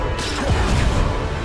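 A Depulsor spell cast in the Hogwarts Legacy video game, a dense whooshing blast with heavy low-end thumps and crashing impacts, loud and continuous through the short burst.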